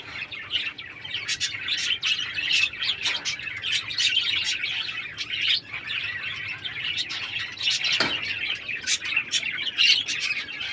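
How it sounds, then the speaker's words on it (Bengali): Pet king quails in a breeder's collection give a busy, continuous run of thin, high chirps and twitters that overlap and repeat at a close range, with a single low thump partway through and no talking. "খুবই সুন্দর মানের কিংকেল পাখি আছে আমার এখানে।"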